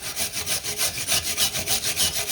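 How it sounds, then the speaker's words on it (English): A brush scrubs corroded car battery terminals on a 2008 Pontiac Torrent in quick, steady back-and-forth strokes, a rhythmic, raspy scraping up close with no talking. "Scrub it off really good."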